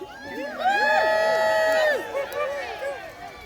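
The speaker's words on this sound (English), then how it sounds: "If you want your men to win, you must cheer them" Spectators at the Loxwood Joust land battle shout and cheer, several voices rising and falling in overlapping calls that swell loudly in the middle and ease off toward the end.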